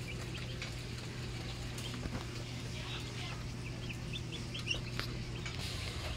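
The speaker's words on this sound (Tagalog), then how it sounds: "Ayun yung duck namin." Small chicks and a duck at a backyard mini farm give faint, scattered peeps and short calls over a steady low hum, quiet and somewhat distant.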